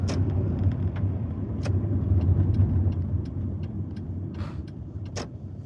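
An old Hyundai Sonata car drives along with a low, steady engine drone and road rumble from inside the cabin, punctuated by a few faint clicks and squeaks.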